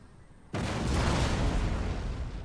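A sudden loud volley of musket and artillery fire on lancers in the Empire: Total War strategy game erupts after a quiet moment and rolls on as a thick, roaring wall of noise.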